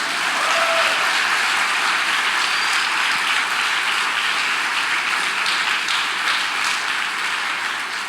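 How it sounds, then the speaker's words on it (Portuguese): A church congregation at a Tuesday evening service breaks into steady, loud applause that fills the room for several seconds, a dense wash of clapping with no speech. "Aplauda o Senhor, José."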